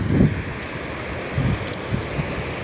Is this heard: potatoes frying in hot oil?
no